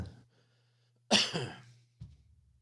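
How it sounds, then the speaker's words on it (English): A single dry cough bursts out after a quiet moment, followed by a softer short second cough, close and clear against a faint low hum. "I've had this annoying dry cough."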